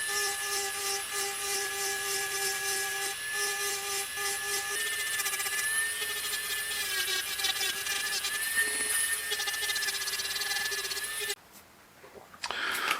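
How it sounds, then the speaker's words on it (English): A sintered diamond burr grinds a black opal from Lambina, South Australia, giving a steady high-pitched whine with tonal ringing that runs continuously, close and fairly quiet, before cutting off abruptly near the end. "I like the way the burr actually cuts."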